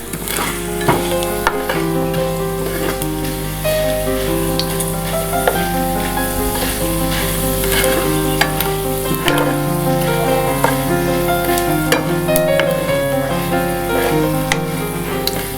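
Garlic tempering with urad dal sizzles and crackles in hot oil for curry leaf chutney, a loud, continuous fry with scattered pops and clinks of stirring throughout, no one talking.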